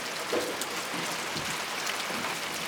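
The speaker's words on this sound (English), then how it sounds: "Are you catching the rain?" Steady rain falling on an outdoor homestead property, a dense continuous hiss of drops pattering on surfaces, fairly close and even throughout with no voices.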